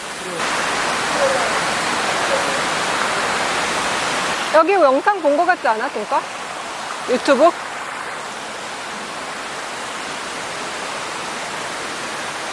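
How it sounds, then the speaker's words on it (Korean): A small stream of water flows through a hotel garden at the Shangri-La in Singapore, a steady broadband rush that runs throughout, with people briefly talking over it partway through. "여기는 이렇게 조그마 시냇물 느낌이네?"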